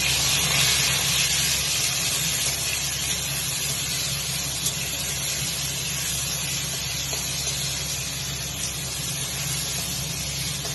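Salted pointed gourd frying in hot oil gives off a steady, loud sizzling hiss that runs unbroken from start to finish, with no talking.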